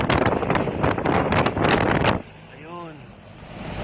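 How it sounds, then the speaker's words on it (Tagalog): Cold mountain wind in Malico, Santa Fe, Nueva Vizcaya buffets the microphone in loud, rough gusts that drop away abruptly partway through, leaving a softer rush under a brief voice. "Ang lamig ng simoy ng hangin dito."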